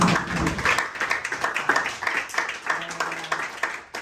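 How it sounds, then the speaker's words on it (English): Scattered clapping from a small group at an evening Buddhist discussion gathering, a few seconds of uneven hand claps mixed with some voices. "Give her a big clap, please."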